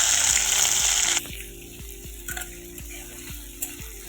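Chopped onions for egg bhurji fry in a hot pan, a steady loud sizzle that drops in intensity after about a second, with rhythmic stirring scrapes continuing throughout and no talking.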